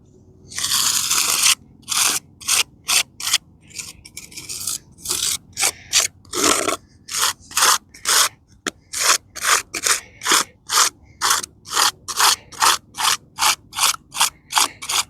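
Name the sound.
scraping lichen and moss off a headstone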